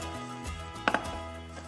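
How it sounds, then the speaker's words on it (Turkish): A couple of quick, close knife chops on fresh mint land on a cutting board over a steady low background hum. "Nanemi doğruyorum."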